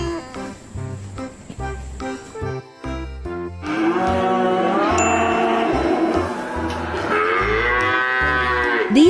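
A cow bellows in long, drawn-out moos over light background music, loud and near, with several low, sustained calls that rise and fall in pitch.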